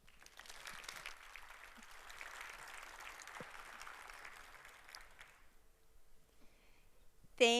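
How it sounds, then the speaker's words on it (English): Audience applause at a software developer conference session, a broad steady wash of clapping for about five seconds that fades out, then quiet room noise and a brief loud knock near the end. "Give a warm welcoming applause to Melissa McKay from JFrog."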